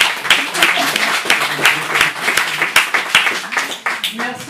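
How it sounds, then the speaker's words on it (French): Audience applause at a French conference, a moderate crowd clapping with distinct sharp individual claps standing out, while voices talk over it throughout. "Je vous demande d'applaudir."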